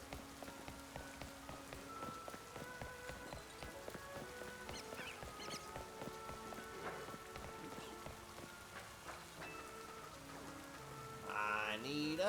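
Rain falls in the video game Pokemon Legends Z-A, a dense continuous wash of drops under soft melodic game music, with no voices; a brief bright chime rises near the end.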